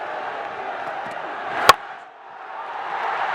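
Broad crowd roar at a BPL 2025 cricket match as Fortune Barishal beat Khulna Tigers on the final delivery, a steady wash of noise broken by one sharp loud bang before swelling again.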